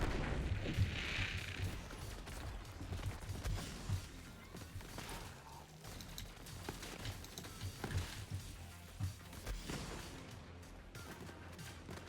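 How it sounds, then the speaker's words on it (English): Rat explosion in a Borderlands game, heard as a dense, muffled mix of booms, crashes and gunfire rolling through a chaotic firefight, fairly faint and continuous with no clear single blast. "Good rat explosion there."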